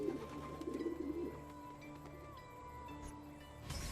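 Pigeons coo softly from a pigeon coop in Assassin's Creed II, with low murmuring bursts up front and then quieter cooing over a steady ambient hum.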